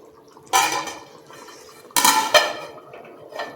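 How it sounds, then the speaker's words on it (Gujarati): A metal lid goes onto a pot of simmering drumstick and potato curry in a home kitchen, making two close, sharp clanks about a second and a half apart, with a small rattle after the second one. No one speaks. "હજુ થયું નથી એટલે આપણે ઢાંકી દઈશું।"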